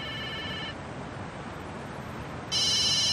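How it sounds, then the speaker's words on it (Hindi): A telephone rings in two electronic bursts, one at the start and one at the end, separated by a stretch of steady hiss. "उसका फोन आ गया।"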